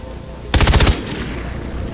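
Automatic gunfire in Far Cry 3: Blood Dragon, a short loud burst of rapid shots lasting about half a second, then quiet game ambience.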